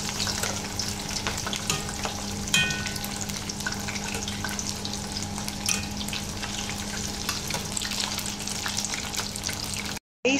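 Chicken skin deep-frying in hot oil for chicharon sizzles and crackles steadily and loudly, close by, with occasional stirring clinks and no voices.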